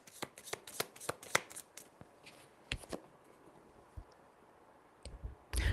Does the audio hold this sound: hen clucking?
no